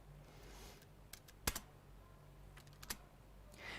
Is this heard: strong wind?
no